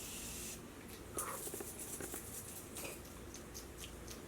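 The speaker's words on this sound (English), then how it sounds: "I'm going to be using my Morphe Continuous Setting Spray." Morphe Continuous Setting Spray misted onto a face, a faint soft hiss of fine spray in quick bursts, close and quiet.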